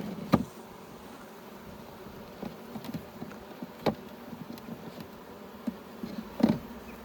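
Honeybees buzz around an open beehive during a beginner beekeeper's hive inspection, a faint steady drone broken by occasional close buzzing passes and small knocks.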